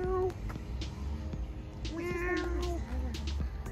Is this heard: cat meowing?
yes